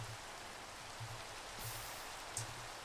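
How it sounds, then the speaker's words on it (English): Rain falls steadily in a multiplayer survival video game, a soft even hiss of drops with faint low tones repeating underneath. "Why is it raining so much?"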